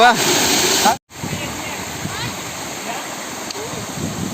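Steady broadband rush of a forest waterfall close by, a continuous roar of falling water with a brief cut near the first second, and people talking faintly over it.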